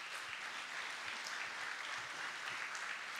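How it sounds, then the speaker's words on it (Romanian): Audience applause at a launch event held in the Palace of Parliament, greeting Cristi Țepeș: a steady, even wash of many hands clapping at moderate volume with no voices over it. "Aplauze, Cristi Țepeș."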